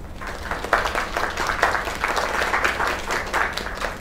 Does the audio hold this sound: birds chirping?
no